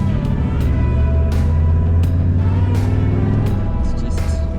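A car's engine pulls hard with the throttle pressed down through an aftermarket throttle controller, a loud, steady low rumble with a rising drone that holds for the whole stretch.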